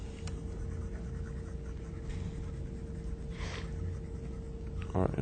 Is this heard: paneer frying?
no